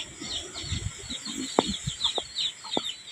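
Chickens cluck softly nearby in a rural home setting, with scattered short clucks and chirpy calls over faint background insect noise.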